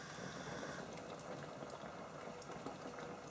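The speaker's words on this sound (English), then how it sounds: "put it back onto a little simmer, get it bubbling away" Chorizo and potatoes simmer in a lidded pot on the stove, giving a steady close bubbling hiss that holds even from start to end, with no speech.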